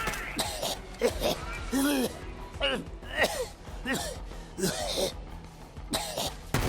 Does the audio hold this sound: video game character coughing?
yes